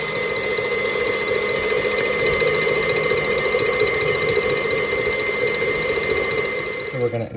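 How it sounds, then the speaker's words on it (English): Egg whites beaten to stiff peaks with an electric mixer, a loud, steady mechanical whir with a rattling buzz that runs without a break and tails off at the very end. "you want to beat the egg whites until you get to a nice stiff peak consistency"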